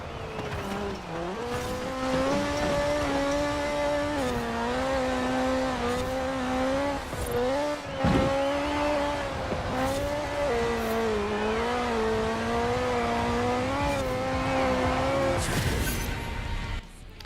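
Race cars in Forza Horizon 4 roar continuously, engines rising and falling through gear shifts with occasional tire squeals and skids, loud and close for the whole stretch with a brief dip near the end.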